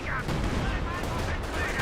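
Company of Heroes 2 battle with dense, continuous gunfire and thudding blasts rumbling under and between game voices, forming a steady roar of combat noise.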